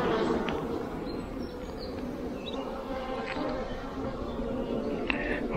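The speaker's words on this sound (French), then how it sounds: "Il y a vraiment beaucoup d'abeilles, hein." Honeybees swarm around an open beehive during a frame inspection, a dense continuous buzzing close by, with a few louder individual bees passing and a voice faintly underneath.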